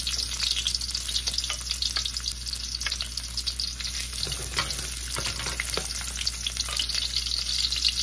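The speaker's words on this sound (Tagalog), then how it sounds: "gigisa ko na yung mga ingredients ko. Garlic," Garlic, onion and ginger sautéing in hot oil in a pan, a steady close sizzle with occasional stirring scrapes, no talking.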